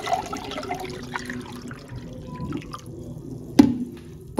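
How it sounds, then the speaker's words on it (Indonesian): Water is poured into a pudding mixture of jelly and agar powder, making close splashing and trickling sounds with a few drips and a sharper splash near the end. "masukkan semua airnya."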